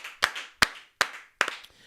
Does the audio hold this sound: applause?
yes